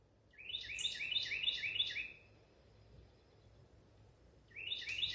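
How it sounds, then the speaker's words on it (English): A small bird sings a quick run of bright, rapid chirps, pauses for a couple of seconds, then starts another chirping phrase, fairly clear against a quiet background, with no talking. "The bird."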